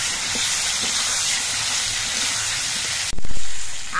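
Potatoes and eggplant frying in hot oil after black cumin and green chillies, a steady close sizzling hiss that jumps louder near the end as the pan is stirred or more goes in.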